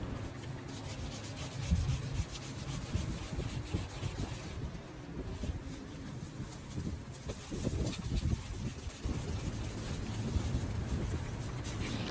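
Sanding block worked by hand over a jet ski's gelcoat, a steady close scraping rub that continues through the whole stretch in uneven back-and-forth strokes, with some low background noise.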